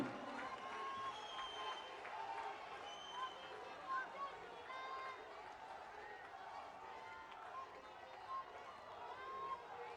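A large crowd at Prime Minister Narendra Modi's rally in Una, Himachal Pradesh, keeps up a distant, steady wash of applause and cheering with crowd murmur.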